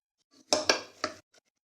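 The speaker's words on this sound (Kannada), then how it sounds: "ಈಗ ಒಂದು ಸ್ವಲ್ಪ ಇದನ್ನ ಕಡ್ಗೋಲಿನಿಂದ ಸ್ವಲ್ಪ ಸ್ಮ್ಯಾಶ್ ಮಾಡ್ಕೊಳ್ಳೋಣ" A wooden masher knocks against a pot while mashing cooked lentils and beans for North Karnataka barta: three quick, close clunks in a row, followed by a faint softer tap.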